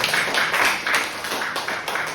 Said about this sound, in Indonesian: tepuk tangan untuk Mbak Dewi.